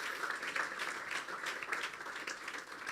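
A church congregation claps during a worship service, dense sustained applause heard at moderate volume with no talking over it.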